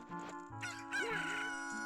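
Rooster crowing in The Legend of Zelda: Ocarina of Time, a close, clear cock-a-doodle-doo with a synthesized, tonal game quality, rising and wavering over under two seconds.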